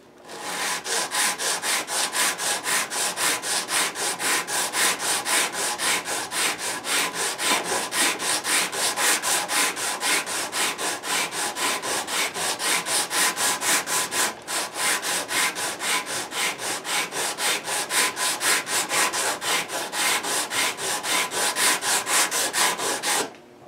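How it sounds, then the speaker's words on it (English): Steady rhythmic rasping of a mid-sized sanding block scraping back and forth over metal guitar frets, leveling them, fast even strokes continuing without pause, close and fairly loud. "we're going to take care of that now with that mid-sized sanding block"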